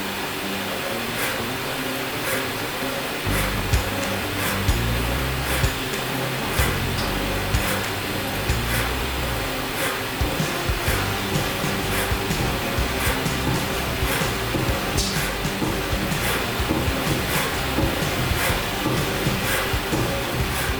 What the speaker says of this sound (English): And then we will output to MDI and run this broach cycle.